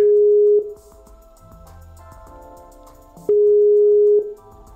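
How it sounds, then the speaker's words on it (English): A steady electronic phone tone from a live radio show's call to London sounds twice in long beeps, separated by a quieter stretch of faint line noise. "I'm trying to get MC Frozen One in London on the line"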